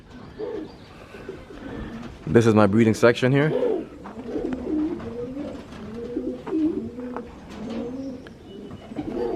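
Several racing pigeons coo nearby, low throaty rolling calls repeating over about nine seconds, while someone speaks briefly among them.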